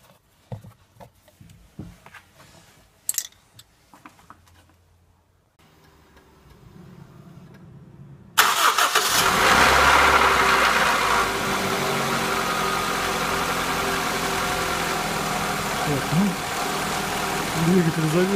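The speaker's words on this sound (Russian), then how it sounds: "Двигатель завелся, пока давление не поднялось, вот этот шум был, рокот распредвала" A 1999 Honda CR-V engine cranks and catches, then settles into a steady, loud idle with a mechanical camshaft rattle running underneath the drone, after a few seconds of quiet knocks and handling noise.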